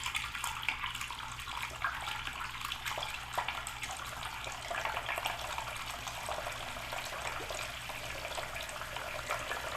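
Pool water from an off-grid system gushing steadily from a house tap, a constant, even splashing flow with no pauses.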